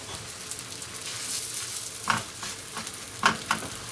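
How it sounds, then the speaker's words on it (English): Roti frying in oil on a hot pan, a steady low sizzle running throughout with a few sharper crackles and pops near the end, close and moderately loud with no talking. "we're going to sprinkle some oil on the pan like this, and then we're going to put the roti"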